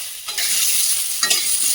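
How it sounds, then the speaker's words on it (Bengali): Potato and eggplant pieces fry in a pan with a loud, steady hiss that swells after a brief quieter start, with a stirring scrape midway and no voices. "এখানে দেখতেই পাচ্ছ আলু আর বেগুনটা হালকা করে ভাজা ভাজা করে নিয়েছি"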